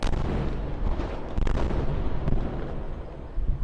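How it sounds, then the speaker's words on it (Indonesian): Explosions echo across Tel Aviv during an Iranian missile attack, a series of heavy, booming blasts and rumbling bursts, distant and reverberant, with no talk. "Suara ledakan juga terdengar di penjuru kota Tel Aviv dan Yerusalem."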